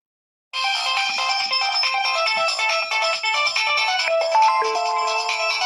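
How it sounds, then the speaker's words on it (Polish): A Nokia 1208 mobile phone plays a notification tone melody, a clear, bright electronic jingle of quick ringing notes that starts abruptly after a brief silence and continues steadily, alone and close. "Dźwięki powiadomień."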